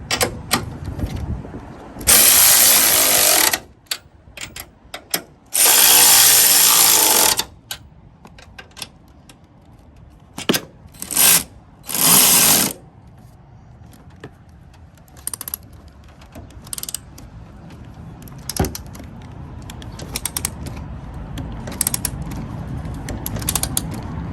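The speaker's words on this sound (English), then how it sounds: "now we're going to go back to the top and tighten up the bolts." Bolts on a Toyota Camry front strut are tightened with a ratchet, giving bursts of loud clicking and long grinding spells mixed with scattered metallic clicks and creaks at close range, with no talk.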